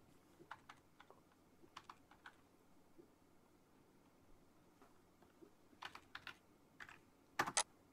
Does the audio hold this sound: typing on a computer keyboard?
yes